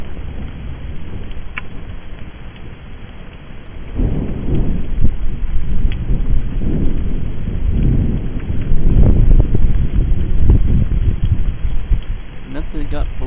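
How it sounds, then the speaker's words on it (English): Heavy rain pours steadily during a severe evening thunderstorm, with deep rolling thunder swelling loud and close in the second half, and a voice briefly heard over the downpour. "That's quite a bit of rain."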